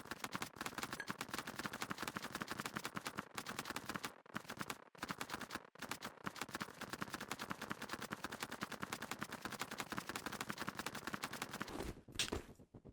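Rapid, dense bursts of gift explosions from the Rust video game crackle continuously like gunfire, with a few brief gaps and one sharper blast near the end, loud and with no talking.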